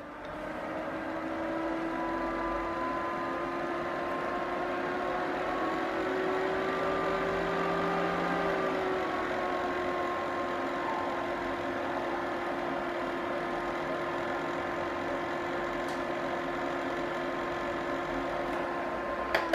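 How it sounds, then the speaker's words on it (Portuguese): An Artic Air portable USB air conditioner fan running, giving a steady whirring motor hum with tonal whine at close range. The pitch shifts briefly midway as the fan speeds up and brakes, and no one talks. "Ele começou a disparar e deu uma freada no ventilador."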